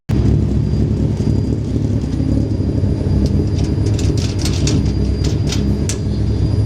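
A Micrabusa engine idles steadily while warming up to temperature, a dense, continuous low rumble close by with faint high ticks and clicks over it.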